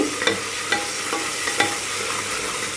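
Onions and tomatoes sautéing in a pan for a goat lung gravy, with a steady close hiss of frying broken by a few light ladle scrapes and taps, no voices.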